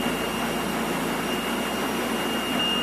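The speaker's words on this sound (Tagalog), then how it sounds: "Ganito naman po yung tamang pag-head clean." A Creon DTF printer running a print head cleaning cycle, giving a steady continuous mechanical whir and hiss with a faint high whine, constant in level throughout with no talk.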